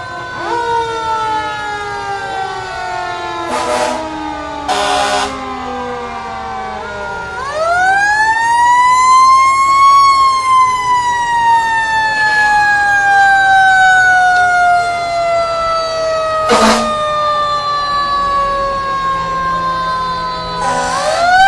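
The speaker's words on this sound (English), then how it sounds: "Fire trucks and the sirens, something all the children enjoy" A fire truck siren wails and rises at a Fourth of July parade, sweeping up and slowly falling, loud and nearby, with sharp horn blasts cutting in between.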